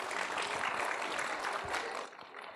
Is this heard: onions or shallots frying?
no